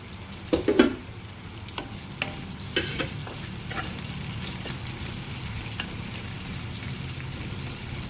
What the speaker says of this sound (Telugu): ఉల్లిపాయలు తొందరగా వేగాలంటే కొంచెము సాల్ట్ వేసుకుంటే బాగుంటుంది ఫ్రెండ్స్. తొందరగా అవి ఎర్రగా వేగుతాయి.